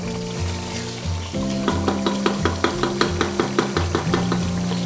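Chicken for biryani sizzles loudly in oil as cumin seeds go in, with a steady, regular ticking of stirring or spattering over a low, constant hum.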